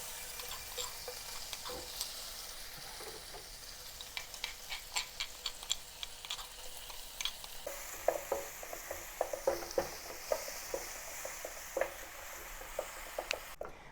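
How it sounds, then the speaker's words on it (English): Chili garlic paste sautés in oil in a pan for a Thai basil tofu stir-fry. A soft, airy sizzle runs throughout, broken by scattered light clicks of stirring that grow busier toward the end. "With a little bit more oil added, let's saute the chili garlic paste."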